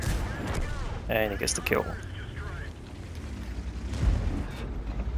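Tank cannon fire in World of Tanks from two tanks attacking at once, with a T49 in the fight: booming shots ring out while a commentator talks over them throughout.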